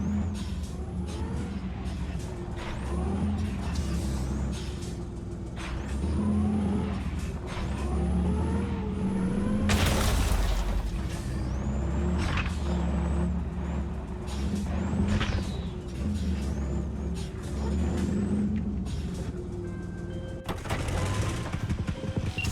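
A truck drives through Night City in the video game Cyberpunk 2077: a steady engine rumble runs throughout, with sharp hisses like air brakes and scattered bursts of gunfire. No one talks over it.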